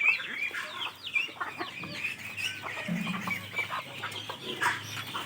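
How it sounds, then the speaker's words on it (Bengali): Backyard chickens and chicks cluck and chirp steadily outdoors after heavy rain, with overlapping calls near and far and a brief low thud in the middle, no one talking. "আর মুরগিগুলো সব বাইরে চলে গেছে"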